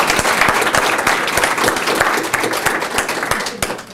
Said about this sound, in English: how about a round of applause for Ryan Petitfrere and John Boynton?